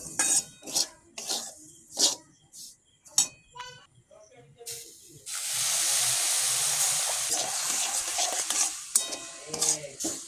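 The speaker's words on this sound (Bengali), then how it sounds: "এটা হয়ে গেছে, এতে এবার অল্প পরিমাণে একটু জল দেবো।" A little water is poured into semolina upma cooking in a pan, setting off a loud, sustained hissing sizzle that fades after a few seconds, preceded by clinks and stirring under talk.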